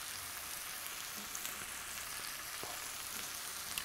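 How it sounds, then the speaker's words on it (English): Peppers frying in a pan with sliced tomatoes for curried zucchini, a soft steady sizzle with faint crackles and a light stir, fairly quiet and without talk. "Now I'm going to add the peppers."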